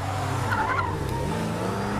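A car in the film Get Out skids away from a house, its tires squealing over a steady engine drone, loud and close for about two seconds without voices.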